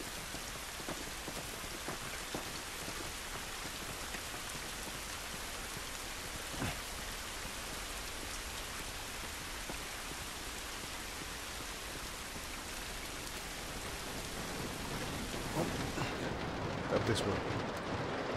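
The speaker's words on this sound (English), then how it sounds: "This rain ain't gonna do us any good." Steady rain pours in The Last of Us Remastered, a dense, even hiss of drops on surfaces running throughout, swelling slightly louder near the end, with occasional faint voices in the game.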